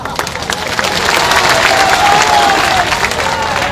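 Crowd applause at an outdoor political rally in Chandana, a dense and steady roar of clapping with some cheering that holds at full strength throughout.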